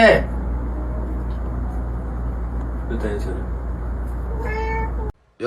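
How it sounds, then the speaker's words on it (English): Cats squabbling early in the morning, with a sharp yowl at the start and scattered meows and cries over a constant low mechanical hum, ending in a brief drawn-out wail before a sudden cutoff. "these cats are beefing at 7 a.m."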